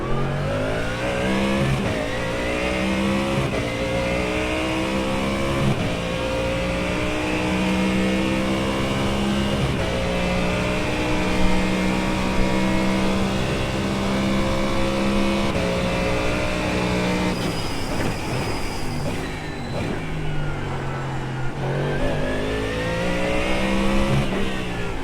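A Ford and a Corvette Z06 race car in iRacing roar continuously at close range, engines revving up through long and short gears with repeated upshifts and brief lifts for corners, the Ford geared longer than the Z06.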